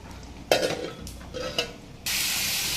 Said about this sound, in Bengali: আর এদিকে একটু পটল ভাজা বসিয়েছি।